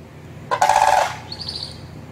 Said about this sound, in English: Here's the real bird sound.